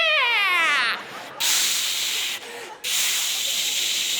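A comedian vocally imitates a cat whose paws are velcro strips dragging across carpet, producing loud rasping, ripping rubs in long bursts after a brief descending whine, alone without talk.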